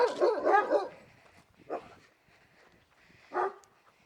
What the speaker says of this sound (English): Should never mess with a dog through the fence